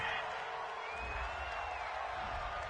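Home crowd at a Broncos–Chiefs football game cheers loudly after a flag on a third-down play, a broad sustained roar with a few whoops rising over it, filling the stadium throughout.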